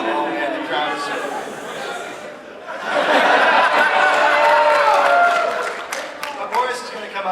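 Audience at a PAX East 2011 convention panel on Xbox LIVE enforcement murmuring and chattering as a crowd, swelling louder midway with scattered laughter and applause-like noise over and around speech.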